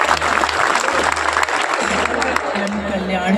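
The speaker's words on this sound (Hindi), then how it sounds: "निशिकांत भैया के सम्मान में एक बार जोरदार ताली बजाएं आप लोग" Loud applause from the audience at an outdoor mass wedding ceremony, dense clapping and crowd noise close by, with a low droning hum and some voices underneath.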